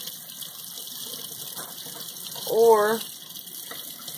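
Water runs steadily from a kitchen tap as decapsulated brine shrimp are rinsed, a continuous close hiss that swells briefly partway through.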